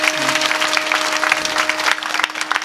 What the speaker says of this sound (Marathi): खरंच यांच्याकरता जोरदार टाळ्या.